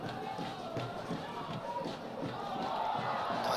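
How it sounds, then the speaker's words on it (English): Crowd at a Chattanooga FC soccer season opener gives a round of applause, a continuous mid-level roar and clapping from the stands that rises slightly toward the end, with a commentator's voice over it. "wins a round of applause in the crowd"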